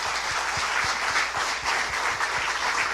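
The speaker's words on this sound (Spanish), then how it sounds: "Denle un fuerte aplauso al Señor" A church congregation gives a loud, dense round of applause, continuous crowd clapping with no pause.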